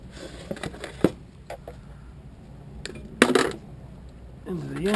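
Electrical cords are snipped and tossed into a metal bucket during scrap sorting, giving sparse sharp clicks and metallic clinks with a louder rattling clatter midway, close by, with a voice briefly heard at the end.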